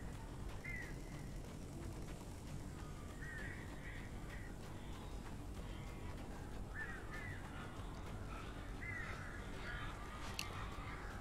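Crows caw in the video game Alan Wake Remastered, several harsh calls scattered over a low, steady ambient drone, fairly faint and without speech.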